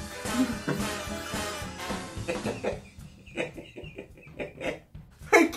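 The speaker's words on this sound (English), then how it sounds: "Chicken." A chicken clucks in a quick, loud series of choppy bursts close up, then breaks into a few scattered clucks separated by short pauses.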